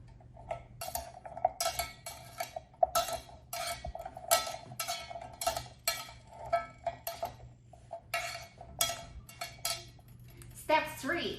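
Melting candle wax is stirred in a double boiler pot, making a run of quiet, regular metallic clinks and taps, with faint speech over it.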